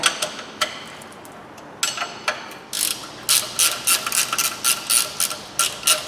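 A ratchet loosens an oil sump pan bolt under a Fiat Grande Punto with a leaking sump, first in a few sharp isolated clicks, then in quick bursts of close, loud ratcheting.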